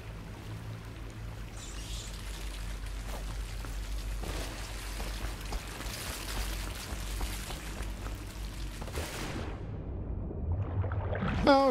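Splashing and sloshing through sewer water in the video game Dishonored, a continuous wet churning of footsteps and water that grows louder near the end, with no talk over it.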